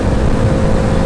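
A Yamaha RX135 motorcycle's two-stroke engine runs as a loud, close, steady low drone and rumble, with no talking.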